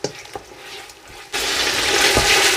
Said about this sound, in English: just going to add a little bit of water into this and cook it down